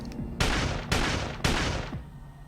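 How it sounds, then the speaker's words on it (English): Three heavy, booming gunshot volleys in a video game, evenly spaced about half a second apart, each loud burst decaying into a rumbling tail with no talking. "Bullets fly through the air."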